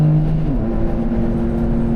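A Suzuki Alto HV36V accelerating around Tsukuba circuit, heard from inside the cabin as a loud, steady engine drone with a rising tone as revs climb, continuous and close.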